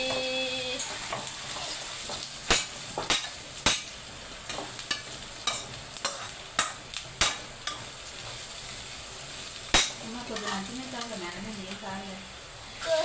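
Upma ingredients fry in a pan with a continuous loud sizzle, and sharp stirring knocks recur at irregular intervals. A faint voice is briefly audible in the background.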